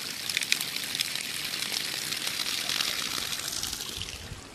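Spring water trickling out into a farm pasture, a continuous bright rushing and dribbling wash of water, fairly close and steady, with no clear talk over it.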